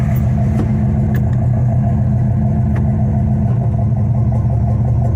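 A car engine runs loud and close with a steady low rumble as the vehicle shifts into drive, with a few faint clicks over the drone.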